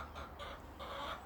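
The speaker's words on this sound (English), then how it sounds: "These are my two silkies, fluffy silkies." Two fluffy 16-week-old silkie chickens in a garden give soft, faint clucks in a few short bursts over steady low background noise.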